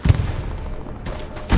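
Gunfire in the video game Hell Let Loose lands in two booming shots, one at the start and one at the end, with a rumbling low tail between them.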